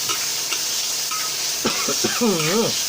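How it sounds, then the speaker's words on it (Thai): Beef hits a hot wok of garlic for Thai basil stir-fry, giving a steady loud sizzle with scraping stirs, and someone speaks over it near the end. "กระเทียมร้อนปุ๊บใส่เนื้อลงไปเลย"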